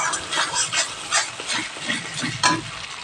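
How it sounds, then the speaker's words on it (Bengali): Ginger and garlic fry in hot oil in a pan for a vegetarian khichuri, a steady close sizzle rising and falling with the stirring, with no voices over it. "যতক্ষণ না আদা রসুনের কাঁচা গন্ধটা যায় ততক্ষণ এটাকে আমি ভালো করে ভেজে নেব।"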